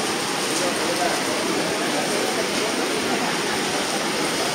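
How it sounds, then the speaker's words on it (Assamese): Heavy rain pours steadily over a flooded meat market where pork is being cut, a dense, continuous hiss with no breaks and no speech heard. "এনেকৈ বৰষুণ হৈ আছে দেখিছেনে?"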